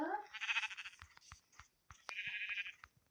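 Sheep bleating in a village-life video game, two drawn-out bleats separated by a short gap, with a few soft clicks and brief sounds in between.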